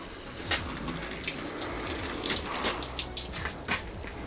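Water poured from a bottle onto a waterproof car cover, a steady splashing, trickling stream with small spatters throughout, close and moderately quiet, with no talk.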